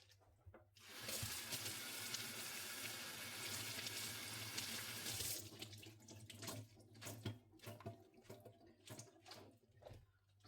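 Vegetables, including corn, washed under a running kitchen tap, a steady rushing stream for about five seconds followed by quieter splashing and handling noises; faint overall with no talking.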